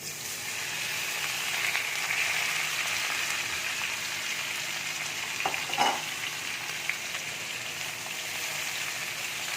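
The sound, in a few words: gourd stalks and potatoes frying in a wok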